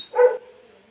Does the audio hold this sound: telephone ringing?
no